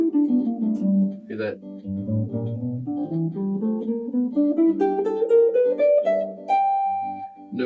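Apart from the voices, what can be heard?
bluegrass scale played on an instrument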